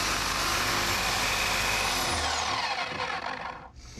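A power buffer polishes an aluminum wheel with a loud, continuous whirring grind held close up. The tone shifts slightly as the pad presses in, then falls away at the end.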